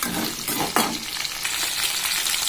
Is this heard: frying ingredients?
yes